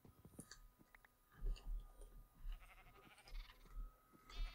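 Sheep bleat in a Minecraft-style video game, several short calls rising over a low, busy background with soft chewing-like clicks.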